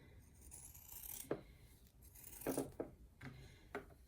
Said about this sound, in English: I'm going to use my fabric scissor here, and what I'm going to do is I'm going to cut these ends.